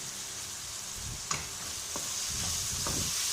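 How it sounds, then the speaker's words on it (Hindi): Tomatoes and onions frying with salt and turmeric for eggplant bharta, stirred in the pan now and then, giving a steady close sizzle with a few soft scraping strokes. "इसको अच्छी तरह मिक्स कर लेंगे और टमाटर गलने तक हम इसको फ्राई करेंगे"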